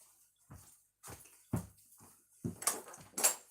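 A dog scratching and pawing at a door nearby, a series of irregular thumps and scrapes with brief pauses between, growing sharper toward the end.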